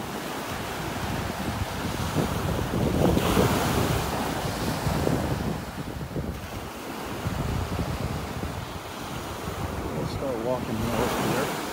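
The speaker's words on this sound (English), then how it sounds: "the water is not very clear. Just because of the waves here," Ocean waves breaking on a beach in North Naples, Florida, a loud continuous rushing surf with swelling crashes and strong wind buffeting the microphone.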